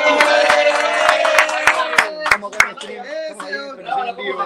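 Scattered sharp hand claps greet Aldo Olchese as he is introduced. About eight distinct claps land unevenly over the first few seconds, mixed with loud voices and talk.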